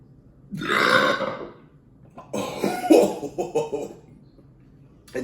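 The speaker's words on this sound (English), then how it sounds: "That burp was started strong, but then then that foam stopped it." A burp after drinking 180 Shilling beer: one long, loud, rumbling belch close up, followed by a series of shorter choppy throaty bursts as it breaks off.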